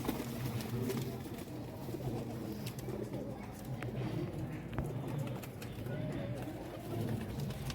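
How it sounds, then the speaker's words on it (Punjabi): A large pigeon coos in soft repeated low notes within a pigeon keepers' gathering in Punjab, set against a busy, noisy background with voices talking. "ਬਹੁਤ ਹੀ ਵੱਡਾ ਕਬੂਤਰ ਵੇਖੋ ਜੀ"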